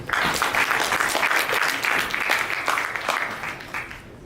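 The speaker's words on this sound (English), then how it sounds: "So give a round of applause for David" Audience applause for a speaker at a presentation on the future and the Internet of Life, a dense, steady wash of many hands clapping that holds loud throughout and thins slightly at the very end.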